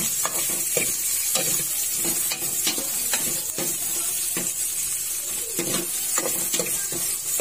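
Steady sizzling of onion and garlic sautéing in a casserole pot, with occasional scraping and stirring sounds, continuous and close.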